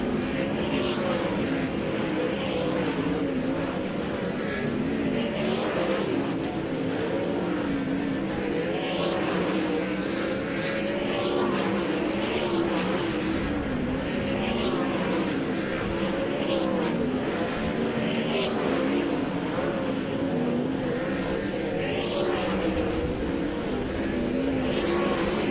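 Dirt track race cars running a High Limit Racing hot lap session at East Bay Raceway Park, a loud, continuous engine roar with rising and falling revs as the cars circle, steady throughout with no speech.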